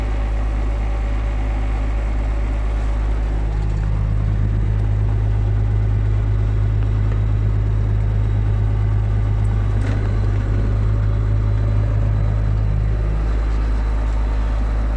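A John Deere tractor engine idles steadily at under a thousand rpm to warm up, giving a continuous low, even drone with a slight rise in rumble midway, close by and with no talk.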